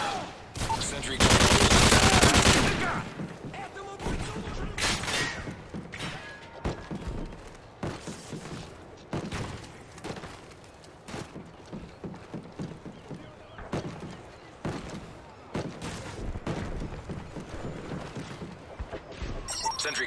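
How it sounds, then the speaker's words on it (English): Gunfire around a sentry gun in the video game Modern Warfare 3 survival mode: a loud, dense volley early on, followed by many scattered, rapid shots and impacts at varying loudness throughout. "Sentry is taking heavy fire."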